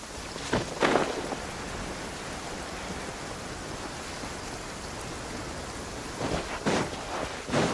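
Steady rain pours down throughout the Genshin Impact game scene, with a few low rumbles of thunder swelling near the start and again toward the end. No one speaks.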